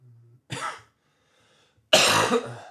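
Two hoarse coughs, close to the mic, separated by a short silence, the second louder and harsher than the first.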